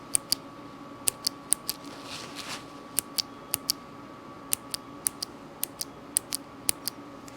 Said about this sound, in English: I don't know what it is about a clickety keyboard, but it's just so satisfying